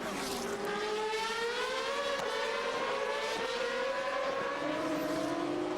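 GP2 race cars drag race to the finish line at Bahrain in 2007, several engines screaming together with rising, overlapping whines and gear-change dips, loud and close with no commentary over them.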